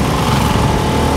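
A motorbike engine running as the ride begins, a loud steady buzzing drone that holds at a constant level, close and unbroken, with no talk.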